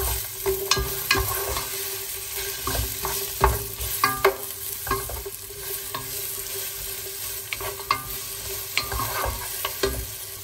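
Sliced onion sautés in a hot pan, a crackling sizzle broken by frequent spatula scrapes and knocks in an uneven rhythm, close and fairly loud, with no speech.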